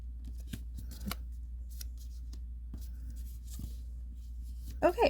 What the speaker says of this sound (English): we're going to fold this edge to this edge